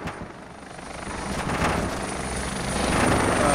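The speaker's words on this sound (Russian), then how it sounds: "Вертолет, по-моему, долбит с района этих..." Helicopter in the military video game ArmA 2 (ACE mod), a steady rotor drone and broadband roar that grows slightly louder and nearer over a few seconds, with no talk.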